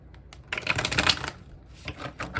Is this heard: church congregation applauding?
no